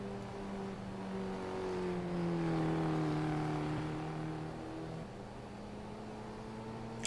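Race car engine in the sim racing game Stock Car Extreme on a Suzuka-style track, revving up and down through gears with a steady droning whine, loud and continuous without speech.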